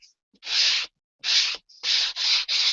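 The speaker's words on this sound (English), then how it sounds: "I am going to use my sanding block. And I'm going to smooth that down because there's some pretty rough edges." A sanding block smooths the rough cut edges of paper for a small 8x8 album in five loud, close, scratchy strokes separated by brief pauses.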